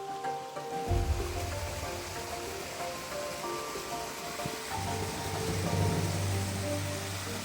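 Small waterfall of water running among reeds and over stones, a steady close broadband rush and splash with a low rumble, continuous throughout with no talk.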